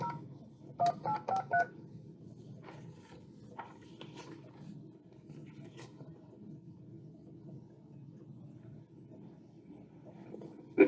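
A quick burst of telephone dialing tones, four short DTMF beeps in rapid succession near the start, followed by a low rumbling background with faint scattered clicks.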